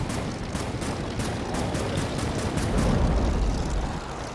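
Propeller aircraft engine drone with bursts of rapid machine-gun fire in the Air Wars 3 flying game, a steady loud mix of continuous motor roar and clustered shots, no talking.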